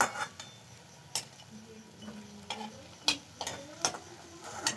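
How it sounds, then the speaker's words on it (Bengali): Eggplant fritters fry quietly in oil, with a soft sizzle broken by several sharp clinks and scrapes of a utensil against the pan, close by and otherwise fairly hushed. "একইভাবে সব বেগুনিগুলো ভেজে নিচ্ছি"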